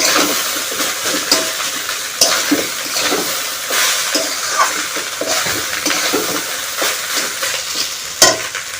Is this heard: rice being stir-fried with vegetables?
yes